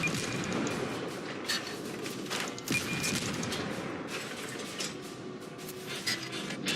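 Naval gunfire in World of Warships comes as repeated sharp cracks and rattling bursts over low steady ship rumble, moderately loud with no talk.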